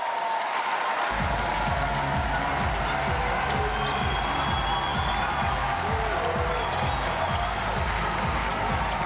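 Sustained applause and crowd cheering at a Paris 2024 Paralympic goalball arena for the Brazil team after their win over France, a dense steady roar of clapping filling the hall after a brief quiet start.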